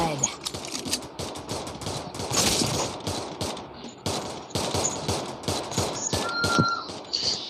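Rapid gunfire from a mobile shooting video game, dense bursts of shots running steadily throughout at close range, with game effects layered in and faint talk underneath.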